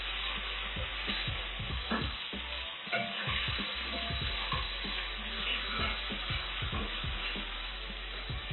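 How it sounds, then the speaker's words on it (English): Beef sizzles steadily as it fries in a pot for pilau, a dense continuous crackle with scattered sharper pops and occasional stirring scrapes, close and alone without talk. "I'll put my meat. Give it a fry."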